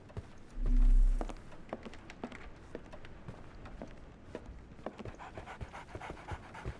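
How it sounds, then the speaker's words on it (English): A dog pants in the Sherlock Holmes The Awakened video game: a brief, loud, close burst of breathing near the start, then quieter soft huffs and light taps over faint ambience. "So, Barnes has a dog now."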